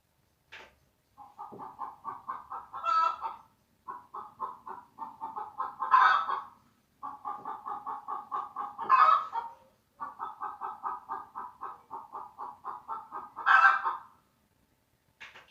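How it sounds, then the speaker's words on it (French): A hen cackling in repeated bursts, each run of clucks building to a louder squawk, with short pauses between them; close and clear, no talking. "c'était la poule, oui, la poule qui caquette"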